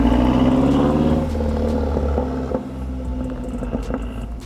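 A heavily modified Mazdaspeed 3 hatchback, driven daily through winter, revs its engine nearby, a loud, deep rumbling drone that holds steady and then settles lower with some clattering.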